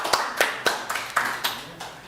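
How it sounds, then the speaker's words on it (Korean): A church congregation claps at a Sunday service, a slow, sparse run of about eight distinct hand claps at a steady rhythm, moderately close and without talk. "박수로 영광을 돌렸으면 좋겠습니다"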